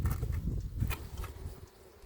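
Honeybees buzz steadily at an opened hive while it is inspected in early April, with frames of honeycomb nearby; the drone is close and fairly loud, easing off slightly toward the end.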